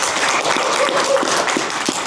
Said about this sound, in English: let's cheer a little bit for the passage of the Country Schools Bill.